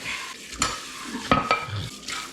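Pancit noodles with chayote, carrots and pork are stir-fried in a pan, giving a soft sizzle broken by several sharp scraping clacks of a utensil against the pan.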